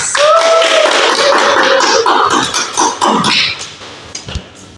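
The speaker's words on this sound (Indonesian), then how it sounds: "Silakan berikan aplaus" A classroom full of students applauds during a physics lesson, with dense, loud clapping that runs steadily for about five seconds before thinning out near the end.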